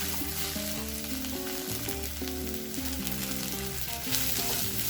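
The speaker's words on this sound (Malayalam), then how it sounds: "ഇതിൻ്റെ പച്ചമണം പോകുന്ന പോലെ നന്നായി ഫ്രൈ ചെയ്യണം." Ginger garlic paste frying in a pan for a prawn and egg curry, a continuous dense sizzle under music, steady throughout with no talk.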